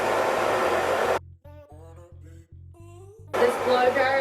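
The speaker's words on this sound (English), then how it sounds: "This blow dryer is the size of my body." Handheld hair dryer blowing on wavy hair with a diffuser, a loud steady roar that stops while a person talks, then starts again.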